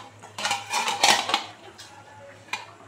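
A metal lid set onto a cooking pot on a stove, a few quick clanks and scrapes of metal on metal close by, followed by a single lighter clink a moment later.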